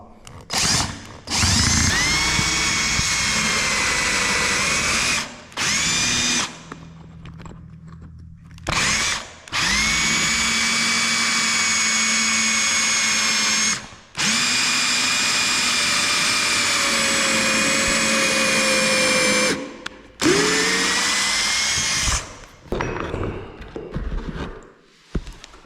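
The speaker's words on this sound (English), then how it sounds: "I'm gonna drill as straight as I can right through there to try to get that to break off" Power drill boring through a sliver of solid oak flooring laid over cork, several loud whining bursts separated by short pauses as the bit bites and stops, heard close up.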